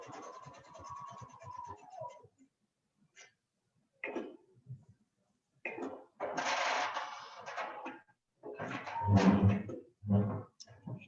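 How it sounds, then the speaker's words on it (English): A sewing machine stitches a quarter-inch seam on a zipper pouch while a caught thread underneath tugs at the fabric. Short bursts of close mechanical whirring alternate with silent pauses, and a brief stretch of faint background sound opens the clip. "I'm going to stitch 1/4 inch seam."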